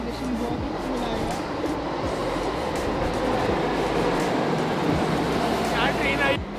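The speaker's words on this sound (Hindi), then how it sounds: "क्या ट्रेन आई?" A train roars past nearby, a loud continuous rumble with clattering wheels that fills the whole stretch, with a brief high squeal near the end.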